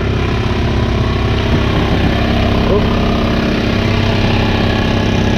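A sailboat's engine drones steadily and loudly throughout while motor sailing, a constant low rumble with no pauses.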